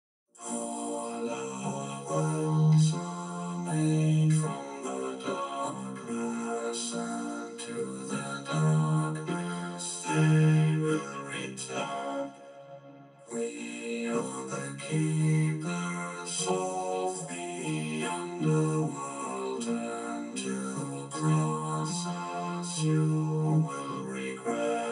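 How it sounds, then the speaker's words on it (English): A vocal line runs through the Surge synthesizer acting as a vocoder in Waveform Free, giving robotic, chordal synthetic tones in rhythmic phrases with a brief pause near the middle. "as every vocoder sounds a little bit different, but mine sounds like this now."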